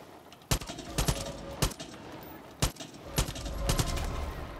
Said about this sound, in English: There are people getting shot.